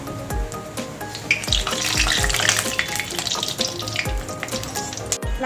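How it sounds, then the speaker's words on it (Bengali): Jackfruit and soybean kofta fry in hot oil with a steady, loud sizzle, broken by repeated scraping and stirring knocks, close up and without talk. "লাল করে সব ভেজে নিয়েছি যেগুলো বাকি আছে সব ভেজে নেব"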